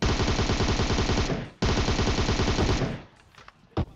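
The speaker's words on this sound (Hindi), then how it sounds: "आते ही गन फाइट हो जाती है यहाँ पे" Rapid automatic gunfire from a PUBG Mobile gunfight, loud sustained bursts with a short break, then trailing off into a few scattered shots.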